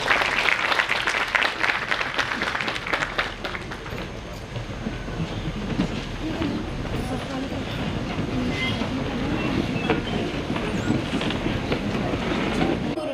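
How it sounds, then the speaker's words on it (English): Audience applause at the inauguration ceremony of an IEEE international conference, a dense clapping wash that starts strong and continues steadily throughout, with a low rumble beneath and faint voices in the background. "Big round of applause."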